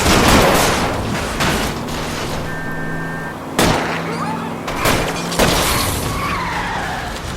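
Car tires skid and screech during a police car chase in L.A. Noire, long squeals over engine noise with sharp impacts and gunshot-like bangs between them, and voices talking throughout.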